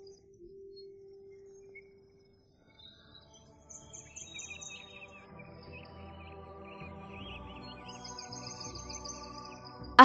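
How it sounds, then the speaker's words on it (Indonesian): Birds chirp and twitter in scattered, faint calls, growing busier toward the end, with a soft steady tone and low rumble underneath. "Ada burung datang."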